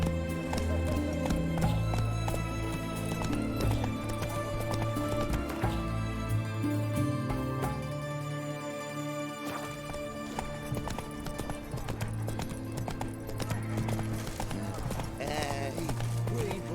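Roach the horse gallops in The Witcher video game: quick rhythmic clip-clop hoofbeats run throughout under game music and a talking voice, with a possible short whinny.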